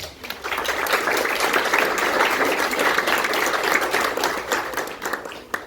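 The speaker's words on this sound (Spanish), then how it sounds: "Un aplauso para ella." An audience at a law lecture claps in a dense, continuous round of applause that holds steady for several seconds before thinning out at the end.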